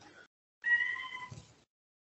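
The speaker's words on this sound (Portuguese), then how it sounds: "Minha gata pedindo para entrar." A female pet cat meows to be let in during an online meeting: a brief call, then a longer, drawn-out plaintive meow that fades off, fairly close and alone without talk.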